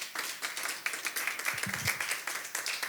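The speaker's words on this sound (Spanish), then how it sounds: "Dele un aplauso al Señor." A church congregation claps, a loose quick patter of hands heard at moderate distance, with a faint voice briefly underneath.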